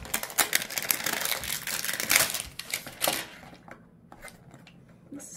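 A Pokémon card pack wrapper crinkles and crackles loudly up close as it is torn open, dense bursts for a few seconds before quieter scattered rustles.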